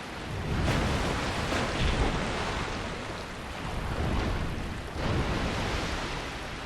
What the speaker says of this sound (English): I think this is the water attack.